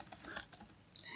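Quick, light clicks of a computer keyboard as code is typed, a short irregular burst of close keystrokes with no voices.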